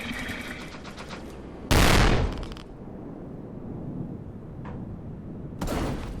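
Gunfire in the VR game Monster: Titan's Playground, with one loud blast that trails off over about a second and a second sharp shot near the end, over a low steady game background.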